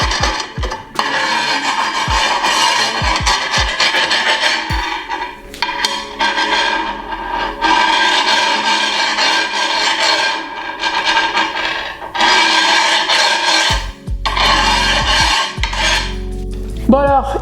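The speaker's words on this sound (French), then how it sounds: "c'est avec cette petite lamelle qu'on va rentrer dans le joint et faire sortir tout l'excédent" A small blade scraping excess epoxy grout out of tile joints, giving steady close rasping and rubbing strokes with occasional sharp clicks of the tool against tile, continuing with brief pauses.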